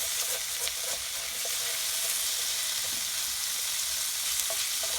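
Chicken cacciatore with garlic and onions cooks in a skillet, giving a steady, close sizzle and frying crackle throughout with a few faint stirring clicks and no talk.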